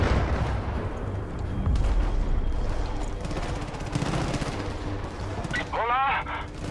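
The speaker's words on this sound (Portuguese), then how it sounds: "Barulho de tiro." Dense gunfire in Far Cry 5 near the Hope County jail: a continuous, loud rattle of overlapping shots and bursts. A voice comes in over the shooting near the end.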